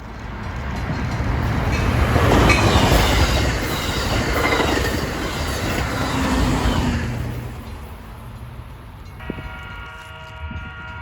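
An Amtrak Hiawatha passenger train races through Edgebrook station at track speed. Its loud rushing roar and wheel clatter swell and then fade after several seconds, leaving quieter ambience.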